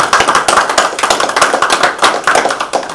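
A room of people at a school committee meeting breaks into applause, a dense, steady patter of many hands clapping, close and loud, for about three seconds.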